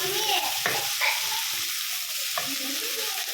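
Mutton liver frying in a pan, a steady close sizzle with a few scraping stirs breaking through.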